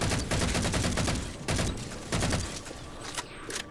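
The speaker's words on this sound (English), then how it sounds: "Use your assault rifle to go ahead and take out the remaining grunts in the rest of the room." Assault rifle fire against grunts in Halo 4, loud repeated bursts of automatic shots separated by short pauses.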